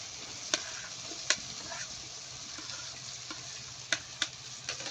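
Chopped onion goes into softened tomato masala in a pan, sizzling and frying steadily while a spoon scrapes and stirs with occasional sharp clinks, close and moderately loud with no talking.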